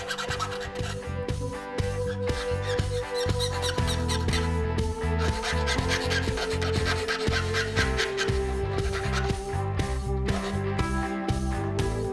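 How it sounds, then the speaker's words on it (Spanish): Hand files rasp over imperfections on a hammered metal jewelry pendant, a steady, continuous run of scraping strokes beneath a constant tonal backdrop, with no one speaking. "Comenzamos a limar cada imperfección."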